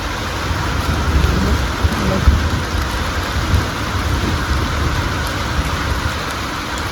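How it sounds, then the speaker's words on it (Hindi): Heavy rain pours down in the hills beside a cowshed, a dense continuous wash with low rumbles of thunder rolling underneath, loud and close, with no voices. "बारिश लगी है, स्टार्ट हो गई है बारिश।"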